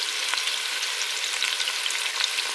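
Onion frying in a pan while being stirred, an even, close hiss of sizzling oil with small crackles and no voices.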